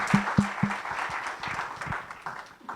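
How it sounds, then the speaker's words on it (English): A lecture audience claps for a panel, a few sharp early claps swelling into a steady round of applause that thins slightly toward the end. "A big round of applause to the panel"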